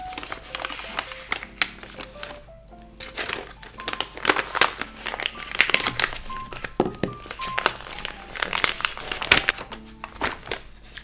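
Scissors snipping and paper rustling while making a Christmas scrapbook page, close and busy with repeated crisp cuts and crinkles, and faint soft tones in the background.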